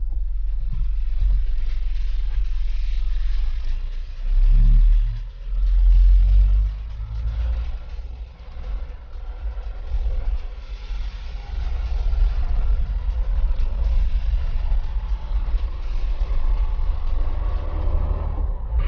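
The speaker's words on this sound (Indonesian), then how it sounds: "saat ini saya sedang mencoba berkendara menggunakan Canter Euro 4" A Mitsubishi Fuso Canter Euro 4 light truck's diesel engine drones steadily while driving, a low continuous rumble from inside the cab with a couple of deeper swells early on and no talking.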